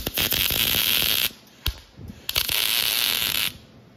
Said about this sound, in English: Just weld.